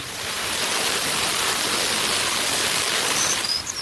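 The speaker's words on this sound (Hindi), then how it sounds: "दोस्तों, अब हम आ गए हैं लक्कोम वाटरफॉल्स के पास।" Lakkom waterfall in Munnar, Kerala, gives a steady, full roar of falling water that stays constant and close, with no voices.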